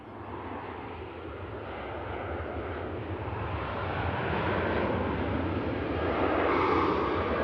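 A British Airways shuttle jet from London Heathrow comes in to land with a steady, broad engine roar that slowly grows louder and closer over several seconds, heard alone without voices.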